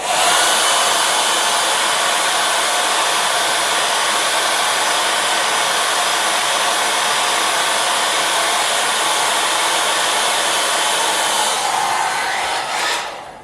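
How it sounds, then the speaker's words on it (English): A hair dryer blows continuously at close range over a watercolor painting on paper, a loud steady whooshing roar that cuts off near the end. "I'm going to use a hair dryer to dry this"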